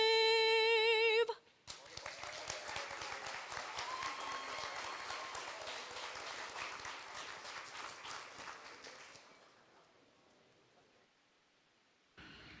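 Applause from a school board meeting audience for a student singer, a steady wash of many hands clapping for several seconds after a brief musical ending, then fading out to quiet.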